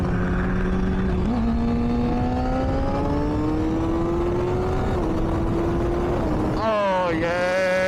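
A motorcycle engine runs loud and close throughout, its pitch climbing steadily as the bike accelerates, then dropping briefly before revving sharply higher near the end.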